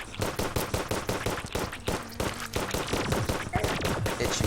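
Rapid gunfire rattles in Terraria, a dense, steady run of sharp shots firing close and loud for a few seconds with no pause.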